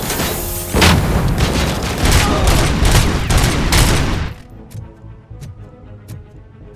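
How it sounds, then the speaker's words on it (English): Gunfire in the Robocop video game, a dense loud barrage of rapid shots and booms for about four seconds, then stopping abruptly into a quieter tail with a few faint clicks. "The hell am I getting shot at from?"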